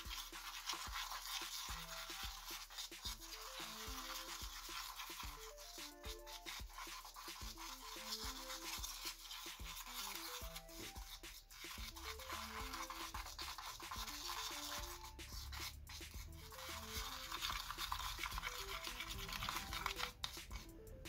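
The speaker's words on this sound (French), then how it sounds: "il ne me reste plus qu'à mélanger avant de passer ça au micro-ondes" A slime mixture of dish soap and powdered sugar is stirred in a bowl, giving a long run of quiet, close scraping and rubbing strokes in an uneven rhythm.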